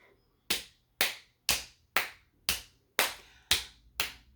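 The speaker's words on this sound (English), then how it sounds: "Hit your knees, then clap." Eight evenly spaced sharp slaps at a steady half-second beat, a children's rhythm game of hitting the knees then clapping the hands, each hit crisp and close with quiet gaps between.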